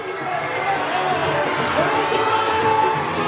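Steady crowd of school students cheering and shouting for the winning house at a house closing ceremony trophy presentation, a dense continuous roar with voices mixed throughout.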